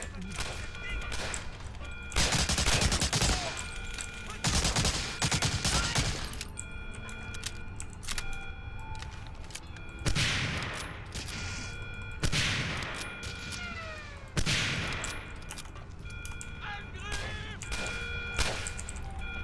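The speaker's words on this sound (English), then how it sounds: "I don't care if you're shooting me, because you're going to die in a second anyway" Gunfire in Medal of Honor Allied Assault, with sharp rifle and automatic shots repeating across a noisy combat scene, loud and close, as a voice chats over the action.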